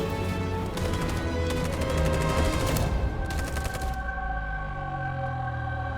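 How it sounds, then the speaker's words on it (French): Bursts of gunshots and rattling fire in the video game Detroit: Become Human, loud and steady for about four seconds, then stopping and leaving low tonal game ambience. "je vais laisser un flingue pour qu'il se flingue tout seul"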